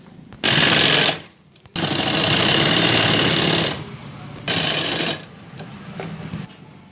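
An electric sewing machine stitches a folded seam on a child's box-pleat skirt, running in loud rapid bursts that stop and start with brief pauses.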